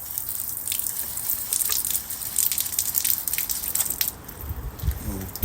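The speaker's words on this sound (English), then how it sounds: "The instructions advise you to run some water through first" Water gushes and splatters steadily through a Halfords pressure washer, a continuous broadband hiss with drips and spray noise lasting throughout, fairly close, with a brief louder burst near the end.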